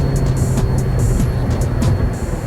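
A 2017 Toyota Altis 1.6 E CNG accelerating, a steady engine drone heard from inside the car with a low rumbling hum that holds fairly constant over a few seconds.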